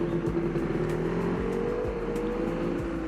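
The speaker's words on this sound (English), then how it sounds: "I love the engine sound that it makes." A KTM ADV 390 motorcycle engine drones steadily while riding along an expressway near Bengaluru, a continuous mid-loud hum with wind rush and faint shifts in pitch, no voices.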